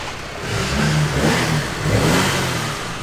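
Close, loud revving from an Audi A5 diesel with a GTR-style exhaust, two strong surges rising and settling back, with no voices over it.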